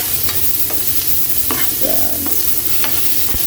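Onion and tomato are stirred in a hot pan with loud spatula scrapes and clinks over a dense, close sizzle, cooking for adobong kangkong.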